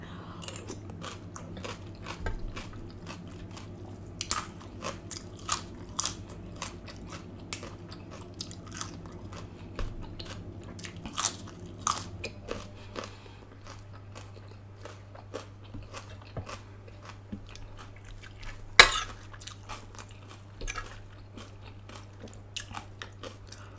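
Steady crunching and biting while eating Thai cucumber salad with grilled duck leg, close to the microphone, with sharp irregular bites and chewing over a constant low hum and no talk.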